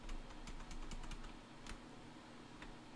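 Steady clatter of keys on a computer keyboard, fast irregular taps in short bursts, close and fairly quiet, with no one talking.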